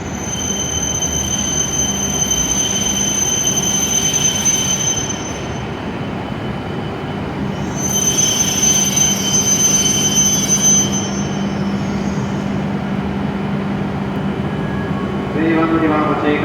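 E7 series Shinkansen pulling into a platform at Kanazawa station, a steady loud rumble with sustained high wheel squeal that fades, returns and settles as the train stops, with platform announcements over it.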